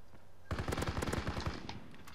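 Rapid automatic gunfire in the World War II shooter Call of Duty WWII, a loud sustained burst of about a second and a half with rhythmic cracks, then fading echoes.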